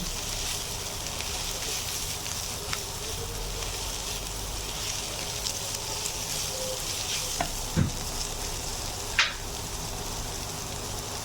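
Meat with chopped vegetables and green chilli stirred and fried in a pan for chicken potato rolls: a steady close sizzle with occasional spatula scrapes and knocks against the pan.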